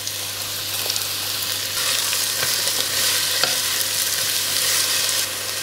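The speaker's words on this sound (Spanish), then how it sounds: "En el mismo aceite vamos a cocinar la zanahoria junto con la cebolla." Carrot and onion frying in oil left from browning pork for a stew: a loud, continuous sizzle with broad hiss and faint occasional stirring ticks, holding steady throughout.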